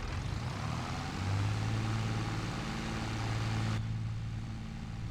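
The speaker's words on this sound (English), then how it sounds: "I like to have a tractor like this to mow. Turn it on. Listen to these sounds." A John Deere 2210 subcompact tractor engine in Farming Simulator 25 rumbles with a steady low drone. It rises to a fuller idle hum after about a second, then the high end cuts away abruptly near the end.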